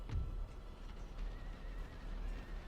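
A cavalry horse of the Colonial Light Horse whinnies in the Empire: Total War battle game. It rises over a dense wash of battle ambience and hoof noise.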